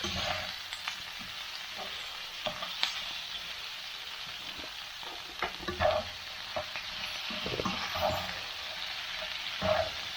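Small pieces of lambs' liver frying in a pan, a steady hiss and sizzle throughout with occasional scraping stirs and soft pops, close and moderately loud, with no speech.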